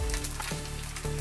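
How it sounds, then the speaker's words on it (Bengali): Sausages frying in a pan for sausage noodles, a loud close sizzle with a low steady hum and a brief clatter midway, no voices. "সসেসগুলো ভাজা হয়ে গেছে"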